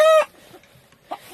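A loud, close Ayam Cemani rooster on a rare black chicken farm gives a short harmonic call, then a quieter second squawk follows after a pause.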